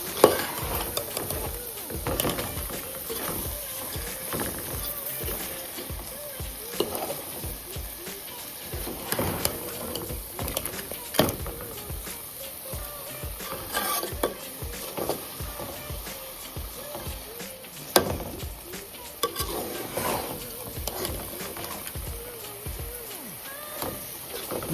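Soaked rice being stirred and mixed into an Andhra-style vegetable biryani in a pot, giving a steady run of soft scraping and clinking stirs with faint sizzling underneath, fairly close and without talk.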